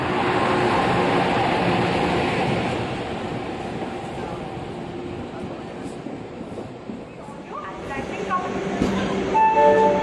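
A train, the Adra–Howrah Rani Shiromani Express, rumbles and clatters into Khirai station in West Bengal, loud at first, then easing, with faint voices and station noise around it.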